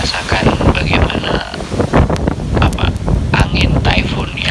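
Typhoon Mangkhut's winds roar through Hong Kong during a signal 10 storm, loud and close with constant buffeting gusts and rattling bursts while a person talks over the din.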